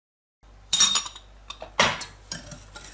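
Metal whisk clinks and scrapes against a pot of sauce in quick, irregular strokes, close by, with a low hum underneath and no talking.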